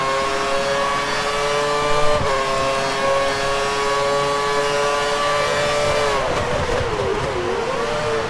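Race car engine in the F1 2013 racing game during a wet race at Malaysia, a loud, steady high-revving whine held throughout, its pitch dipping and wavering through gear changes near the end, with no speech.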